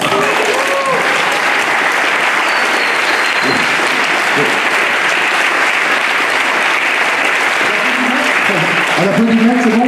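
Loud, dense applause at the closing of a general assembly, a crowd clapping continuously for about ten seconds, with a few voices rising through it near the start and end.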